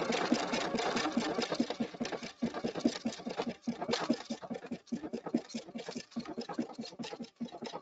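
A Pfaff sewing machine stitches a pattern in a continuous fast, chattering run with small rhythmic stutters and brief dips as the stitch pattern advances, close by.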